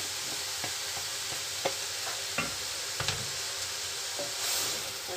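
Onions and green onions being stirred in a pan for lumpia, with soft scraping stir strokes and light clinks over a steady faint sizzle of frying.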